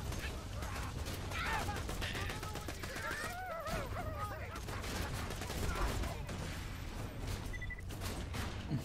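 Gunfire from the video game Borderlands 2, dense rapid bursts of automatic weapon shots and booms running steadily throughout, layered with game music and effects.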